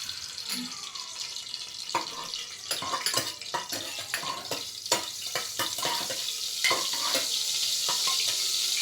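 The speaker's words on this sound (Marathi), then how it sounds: "त्याच्यामध्ये मी हे बटर थोडंसं घालत आहे" Butter melting into oil in a pressure cooker, the start of a pav bhaji base, gives a steady close frying hiss with scattered crackles and pops that builds slightly louder toward the end.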